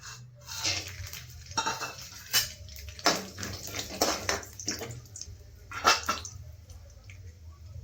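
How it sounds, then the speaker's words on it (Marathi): Peanuts go into a pan of oil for poha chivda, bringing rattling clatter and a few sharp metallic knocks over a soft sizzling bed, close and intermittent. "आता आधी शेंगदाणे ॲड करते."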